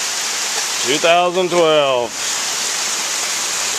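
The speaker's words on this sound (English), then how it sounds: "More rain, more hail." Steady rain and hail pour down in an August storm near a porch, a dense, continuous hiss throughout, with a person briefly speaking over it.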